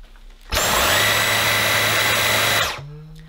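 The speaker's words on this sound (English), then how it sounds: "This is the mini motorized head, and this is really designed so it is a rotating brush." A Dyson V10 cordless vacuum with its mini motorized head runs its rotating brush, a loud, steady whirring drone that starts abruptly, holds for about two seconds, and then winds down, with no talk over it.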